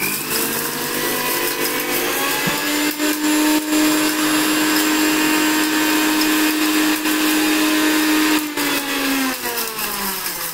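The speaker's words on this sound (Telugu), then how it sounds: "ఇలా ఇప్పుడు మనం ఇది గ్రైండ్ చేసుకుంటాం అన్నమాట" A mixer grinder runs steadily for about ten seconds, grinding dry unroasted spices for a tamarind fish curry paste, a loud continuous motor whine with a sustained hum that shifts pitch slightly near the end.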